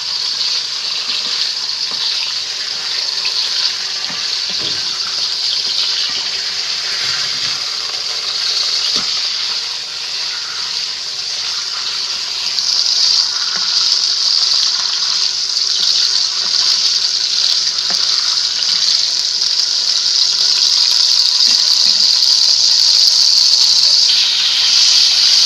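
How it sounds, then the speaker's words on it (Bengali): Nile tilapia frying in hot oil makes a constant bright hiss and crackle from start to finish. The sizzle grows a little louder partway through and has no voices over it. "তেল গরম হয়ে গেছে, মাছটা আমরা হালকা ভেজে নিব।"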